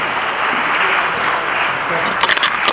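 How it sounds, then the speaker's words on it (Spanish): Audience applause after a speaker's talk at a community event, a dense steady wash of clapping that grows into sharper, louder claps toward the end. "Un aplauso fuerte para la licenciada Esther Chabot."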